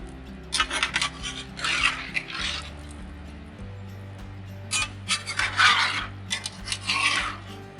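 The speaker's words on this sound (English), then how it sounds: "Give her another stir." Spatulas scraping and stirring a low country boil with corn on a flat griddle, making rough rasping sweeps in uneven bursts close by over a steady background hum.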